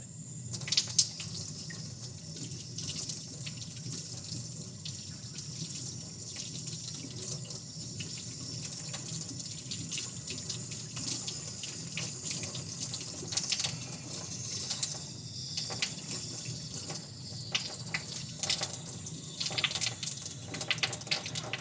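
A tap runs steadily into a sink while lab glassware from an electrolysis setup is rinsed, a continuous moderate splash with occasional clinks and drips, no talking.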